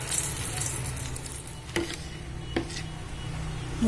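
Fried green banana pieces go into a hot pan and sizzle with a continuous close hiss. Two short clinks of a utensil sound against the pan.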